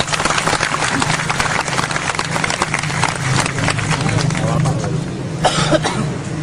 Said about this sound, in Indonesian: tepuk tangan untuk Ustaz Nur Somad